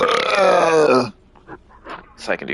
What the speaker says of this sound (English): I feel a burp coming.